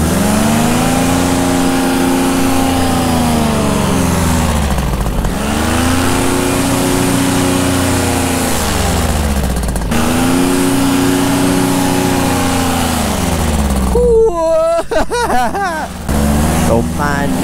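Paramotor engine revving hard in repeated surges, each climbing in pitch and dropping back, loud and close, followed by a brief burst of wind-blown noise.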